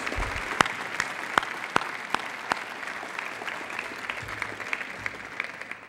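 Steady applause from an audience at a college address, many hands clapping continuously at moderate volume with a few sharper claps standing out.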